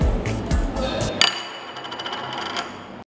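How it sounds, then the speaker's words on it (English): A plate stuck to a glass by condensation drops off and strikes a surface, giving a sharp ceramic clink with short ringing overtones after a few faint rustling knocks, set against quiet room noise. "The condensation of the glass sticks to the plate and then the plate falls down and it"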